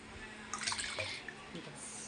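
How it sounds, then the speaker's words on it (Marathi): Cold water from the fridge splashes and trickles as it is poured for a drink, a short soft stream with a voice talking over it. "हे थंड पाणी टाकते फ्रीजमधलं"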